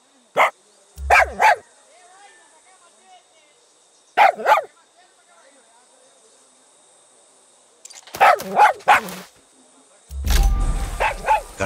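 A dog barks in the video game Far Cry 6, giving short clusters of two or three sharp nearby barks spaced apart by quiet, with a louder rumble at the end.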